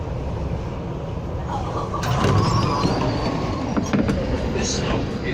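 An A class tram pulls away from a stop in Melbourne, its rumbling wheels and motor swelling louder partway through, with some squealing and clatter near the tracks and a bit of background chatter.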